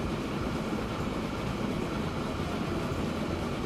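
A train rolls along steadily in Transport Fever 2, a continuous broadband rumble with faint rail clatter holding at even loudness throughout, no voices over it.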